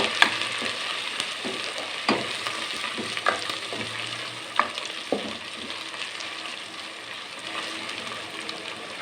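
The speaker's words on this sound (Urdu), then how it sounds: "تو اس کو بس ہم تھوڑا سا اس میں ہلکا سا فرائی کریں گے۔" Ginger garlic paste fries lightly in hot oil for achari chicken biryani, a steady soft sizzle broken by repeated sharp clicks and scrapes of a spoon against the pot, with no speech.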